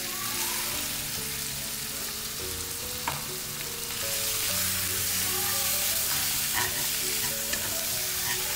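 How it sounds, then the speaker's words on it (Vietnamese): Marinated meat stir-fried with browned shallots in a pan for Mekong-style clam pancakes, a loud continuous sizzle that swells midway, with occasional spatula clinks and scrapes close by. "Mình cho hết thịt đã ướp vào xào luôn nha."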